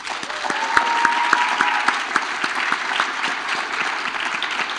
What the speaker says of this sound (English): Could we clap them up?